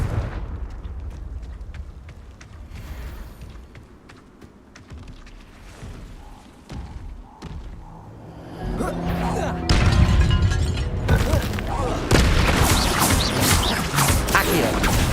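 The Confringo explosive spell in Hogwarts Legacy sets off rumbling blasts and crashing impacts, which grow louder and denser toward the end amid game effects.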